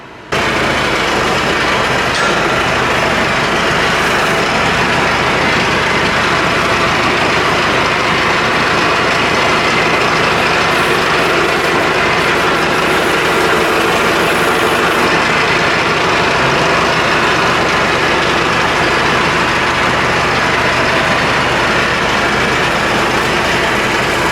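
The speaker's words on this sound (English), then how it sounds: "a pressure washer and some paint will make it a tractor that it ain't" Pressure washer blasting grime off an old Ford 5610 tractor: a loud, continuous roaring hiss that starts abruptly and holds steady throughout, with no talking.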